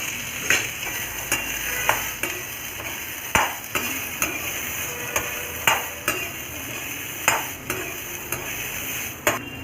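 Steady sizzling of turkey berries frying in oil, with repeated sharp scrapes and clinks of a spatula stirring in a pan at an uneven rhythm.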